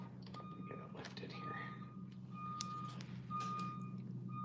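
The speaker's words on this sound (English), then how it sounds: "And we got a bus backing up." A bus reverses outside next door, its backup alarm sounding as repeated high beeps over a low engine rumble, moderately distant, with faint indoor background.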